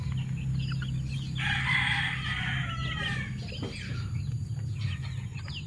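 Talisay and Sweater roosters crow loudly and close by, one long cock-a-doodle-doo rising in the middle, with scattered clucks and farmyard noise around it and no talk.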